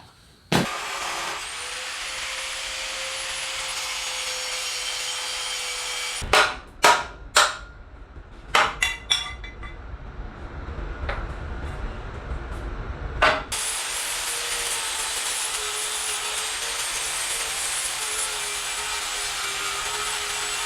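A parking brake bracket being cut off a Ford F250 truck frame with a power cutting tool: a loud, steady grinding roar that stops for several seconds of sharp clanks and knocks, then resumes and runs steadily to the end.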